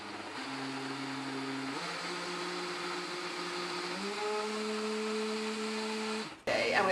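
A blender liquefies cashew nuts, its steady motor whine stepping up through several speeds and rising in pitch, loud and close, before cutting off abruptly with a clatter.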